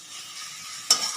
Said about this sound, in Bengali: একটু নাড়াচাড়া করলেই এই মোটামুটি তেল ছেড়ে গেছে